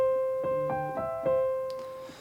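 Solo piano plays a short melody from a song in even, straight eighth notes: four evenly spaced notes that ring close and clear, then a softer note or two as it fades, with no voice.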